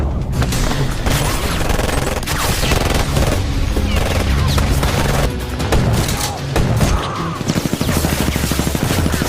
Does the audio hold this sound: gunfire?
yes